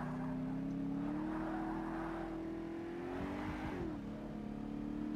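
A Shelby Cobra race car's engine drones steadily in Forza Motorsport, a fairly quiet, sustained hum whose pitch climbs a little, then dips and recovers near the end, with no talking.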